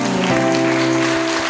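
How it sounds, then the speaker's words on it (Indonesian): A church congregation applauds during a Sunday worship service of the Toraja Church, steady clapping blended under sustained loud musical tones that dominate the sound. "Silakan tepuk tangan semuanya."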